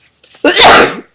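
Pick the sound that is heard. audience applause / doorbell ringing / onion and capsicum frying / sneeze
sneeze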